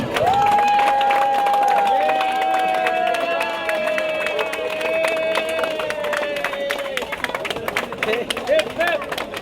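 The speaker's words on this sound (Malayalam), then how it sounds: "നല്ലൊരു കൈയടി കൊടുക്കാം" A crowd clapping in a steady patter at a swimming club's inauguration event while a sustained voice carries over the top.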